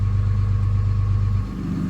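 Dodge Ram with a Cummins 5.9 diesel idling with the exhaust brake on, a loud, close, steady low rumble with a fast pulsing beat that drops off and softens near the end.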